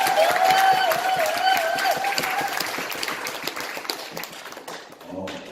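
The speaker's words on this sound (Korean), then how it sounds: "여러분들 감사하다고 박수 한번 보내주시고요." A lecture audience at a company event breaks into sustained, dense applause that starts loud and gradually thins out over several seconds, with a few scattered claps lingering at the end.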